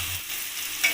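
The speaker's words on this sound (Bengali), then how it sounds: "এবার নুন দিয়ে ভালোভাবে পেঁয়াজটাকে আমি লাল লাল করে ভেজে নেব।" Onions being stirred and fried with salt in a wok: a soft, continuous sizzle with scraping stirring strokes, fairly close but quiet.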